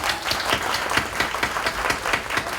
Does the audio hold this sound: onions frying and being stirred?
no